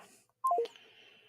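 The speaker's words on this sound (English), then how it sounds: "See if we can get Sarah on the phone." Telephone dialing tones: three quick descending beeps in a short burst, clear and close, followed by a faint steady hum.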